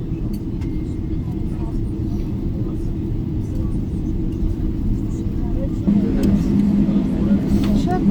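Qatar Airways Boeing 777-300ER taxiing on the runway after landing, heard from the cabin as a steady deep engine and rolling rumble that swells slightly near the end, with voices faintly underneath.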